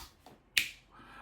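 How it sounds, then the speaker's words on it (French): A single crisp finger snap rings out sharply in a quiet room, preceded by a faint soft rustle and followed by a low hush. "un claquement de doigts."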